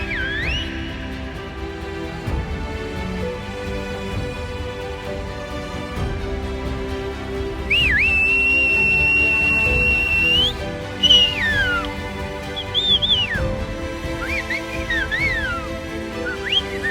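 Silbo, the whistled language of Tenerife, rings out as long, clear, pitch-sliding whistles with sustained held tones and quick rising and falling glides, fairly close and loud against quiet background.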